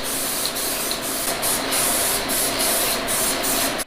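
A paint spray gun lays a light first coat on a 1971 Pontiac GTO, a continuous close hiss broken by quick pulses as each pass starts and stops.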